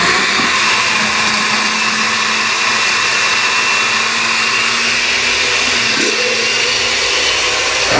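A blender whirs steadily at close range, mixing an avocado deep conditioner, its loud continuous motor drone holding an even pitch with a brief shift in load partway through, and no voices over it.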